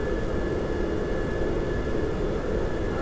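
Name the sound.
aircraft engines idling down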